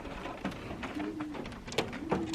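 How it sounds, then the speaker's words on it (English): Young pigeons coo softly in a loft, low repeated throaty calls close by over light background rustling and faint movement. "this is perhaps my favorite pigeon this year"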